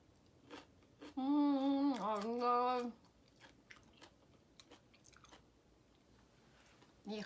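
Stir-fried bamboo shoots are chewed close to the microphone, giving soft, wet bites and mastication, with a sustained voiced hum or tone near the start and faint chewing afterward.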